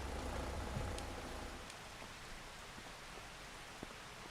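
Rain in the Farming Simulator video game falls as a steady, soft broadband hiss, a quiet continuous wash with a few faint drop ticks and no voices.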